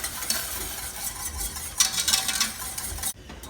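Whisk working grated Japanese curry block into a simmering katsu curry sauce over low heat, a steady close scraping and swirling with soft bubbling underneath, cut off abruptly near the end.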